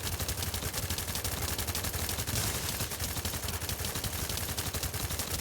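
Rapid gunfire from a gun in a Destiny-style video game, a dense continuous rattle of shots filling the whole stretch at steady loudness, with no talk over it.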